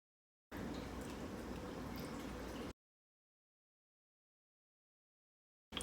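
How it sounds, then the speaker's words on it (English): Water pours into 20 grams of sourdough starter in a kitchen, a short, soft trickle running for about two seconds, then silence and a brief noise at the end. "to that 20 grams of starter, I'm going to add 50 grams of water"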